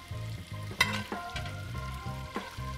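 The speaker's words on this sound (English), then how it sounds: "Just kind of baste throughout until the fish is cooked through." Eelpout fish basting in butter in a hot pan: steady sizzling and frying with rhythmic spoon scraping and stirring, close and clear, with no talking.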